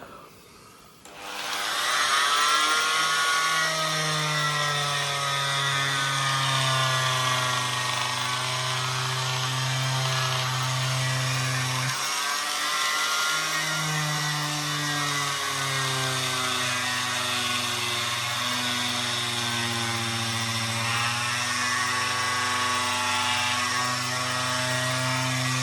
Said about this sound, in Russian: Вот, допустим, сейчас одел ножик. Сейчас попробую кусок резины вот отрезать.